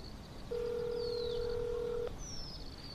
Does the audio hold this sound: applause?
no